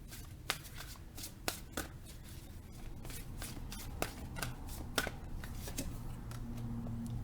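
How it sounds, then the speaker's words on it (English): A deck of tarot cards is shuffled close by, with repeated quick riffling flutters and sharp card snaps at an irregular rhythm over a soft continuous background hiss. "Maybe if I shuffle over here instead."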